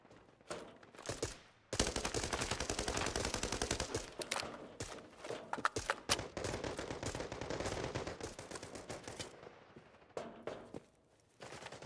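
Rapid bursts of gunfire and single shots ring out in Arena Breakout Infinite, loud and close, with brief pauses between volleys and faint footsteps, spanning most of the stretch.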